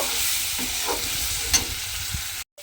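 Spices and soft tomato saute in oil for a raw papaya curry, giving a brief close sizzle with a few stirring scrapes before cutting out abruptly.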